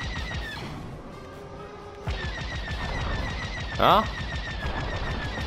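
Blaster shots hitting a starfighter in Star Wars Squadrons, rapid rattling bursts of laser fire in two runs with a sharp impact crash near the end, a voice speaking briefly over it.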